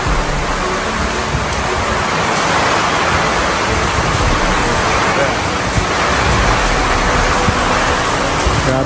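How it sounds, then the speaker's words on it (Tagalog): Heavy rain and strong wind roar as a steady, dense wash of noise throughout, loud and unbroken, during a typhoon with the power out. "Grabe yung ulan, grabe yung hangin."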